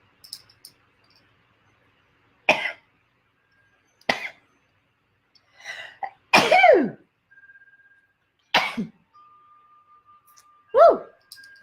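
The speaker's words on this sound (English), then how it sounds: "I'm gonna sneeze here." A sneeze from a person in a quiet indoor room, one sharp loud burst among scattered short breaths, throat sounds and soft vocal noises, with faint intermittent tones between.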